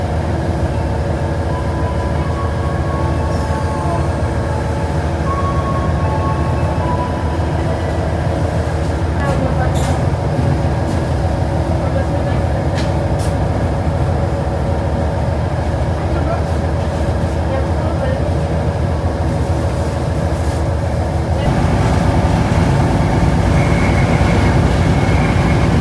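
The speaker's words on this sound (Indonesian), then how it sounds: "tepat pada waktunya pukul 6 kereta api Bahtara Kresna segera diberangkatkan" The Bahtara Kresna passenger train pulling out from platform 1 at an Indonesian station: a steady, loud rumble of the train with faint metallic clanks, rising in intensity near the end, while a person talks nearby.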